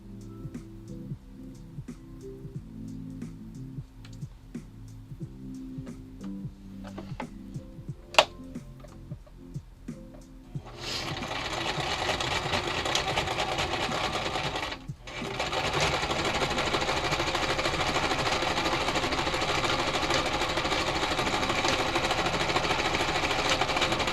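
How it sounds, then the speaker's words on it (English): Sewing machine stitching fabric pieces together along a marked line, starting with light ticking and taps, then running steadily and loudly for long continuous stretches with one brief pause. "This one is you sew pieces alongside line F."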